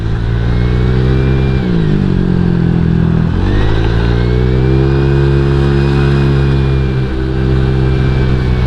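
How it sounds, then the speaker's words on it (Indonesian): A Honda PCX CBU radiator fan fitted to a Honda Vario scooter gives a loud, steady, turbo-like whir over a continuous engine drone, holding its pitch with a brief dip and rise partway through. "kipas radiator PCX CBU dipakai ke Vario Neo yang kayak begini, otomatis kipasnya bakalan bunyi kayak begini."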